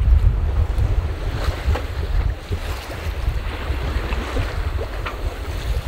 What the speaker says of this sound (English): We're sailing under main only